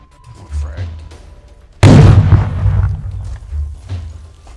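A frag grenade goes off in the tactical shooter Ground Branch, one sudden loud close blast with a rumbling tail that fades over a few seconds, while players talk before and after it.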